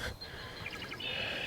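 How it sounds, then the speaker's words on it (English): A red-winged blackbird calls beside a pond near Yellowknife, giving a few faint, distant, brief tonal notes over quiet outdoor ambience. "there's a red-winged blackbird calling."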